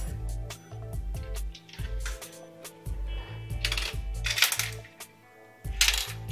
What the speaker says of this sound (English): So if you insert an invalid coin,